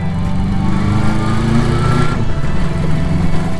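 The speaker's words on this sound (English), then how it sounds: "Bike's riding nice and good, plenty of power." A 1982 Honda CB650 Nighthawk motorcycle engine hums steadily while riding, a loud continuous low drone with harmonic buzz and rushing wind, close and without speech.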